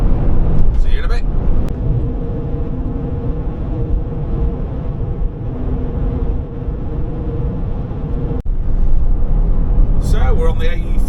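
Steady road noise from a car cruising along the A42 toward Birmingham, a continuous low rumble of engine and tyres held close throughout, with a few brief higher rattles and a short dip near the end.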